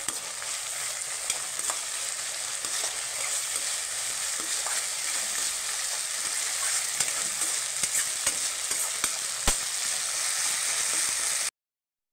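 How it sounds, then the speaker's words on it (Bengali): Spice paste with turmeric powder frying in oil and being stirred, a steady close sizzle with repeated light scraping stir strokes and occasional sharp clinks, no speech, ending abruptly in silence. "মশলাটাকে কষিয়ে নেব।"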